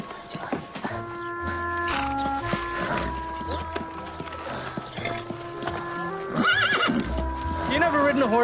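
A horse whinnies with rising, wavering calls near the end while hooves clip-clop steadily on a hard surface, set against a continuous musical score and background sound.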